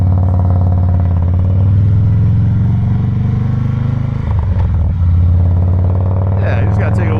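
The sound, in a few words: 2017 Harley-Davidson Softail Breakout motorcycle engine riding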